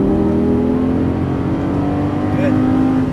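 A Lamborghini Gallardo on a track accelerates with a steady, loud engine drone and rising whine, heard from inside the car under a constant roar.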